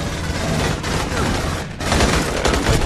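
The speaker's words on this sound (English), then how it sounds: "Where are they shooting me from?" Rapid gunfire bursts in the Aliens: Colonial Marines shooter video game, a dense continuous volley that dips briefly before resuming, loud and close.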